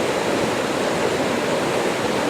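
The Big Quilcene River flows beside a Marmot Pass hiking trail, a dense, steady rushing roar of moving water that stays constant and close, with no voices.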